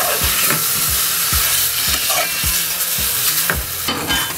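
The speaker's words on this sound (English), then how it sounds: "Once it's in there, give it a good stir." Garlic fries on high heat in a pot for arroz con pollo, loud and close, a dense steady sizzle with repeated thumps and scrapes of a spoon stirring roughly every half second.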